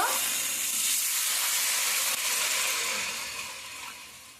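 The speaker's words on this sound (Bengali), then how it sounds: "মশলা কষানো হয়ে গেছে এখন আমি জল দিয়ে দেব" Water hits sizzling fried spices in a pan, bursting into a loud, close hiss of steam and frying that holds steady, then slowly fades.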